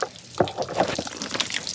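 Warm water is poured into an ice-blocked pipe during a harsh Mongolian winter, giving faint splashing, dripping and gurgling with irregular small splashes close by.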